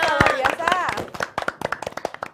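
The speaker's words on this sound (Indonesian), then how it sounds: "Tepuk tangannya dong teman-teman." Speech at the start gives way to a burst of quick, sharp hand claps from a small group, rapid and fairly close.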